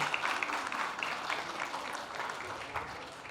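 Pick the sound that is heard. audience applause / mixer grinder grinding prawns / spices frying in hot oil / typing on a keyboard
audience applause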